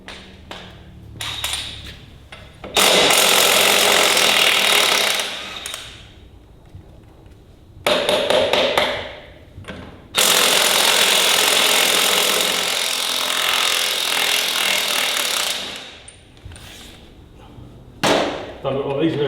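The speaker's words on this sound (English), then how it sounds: "let's start off by yanking these back wheels off" Power tools working on the rear wheels of a Ferguson TEA 20 tractor during a strip-down: loud, harsh buzzing bursts of several seconds each, broken by short clanks and pauses, close by with no talking.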